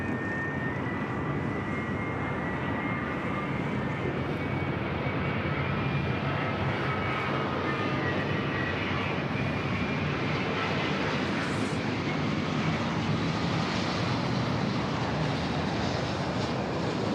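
A Boeing 787 Dreamliner on final approach at LAX produces a steady, loud broadband jet roar with a thin whine, heard continuously and unbroken without voices.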